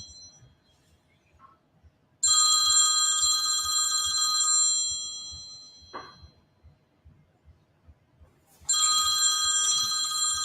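A telephone rings indoors with bright electronic trills, two long bursts separated by a pause with a brief click, fairly loud against a quiet background.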